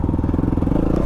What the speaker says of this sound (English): If Pole can do the Red Bull Romaniacs on a Tenere, then I can do this shit on a WR250R.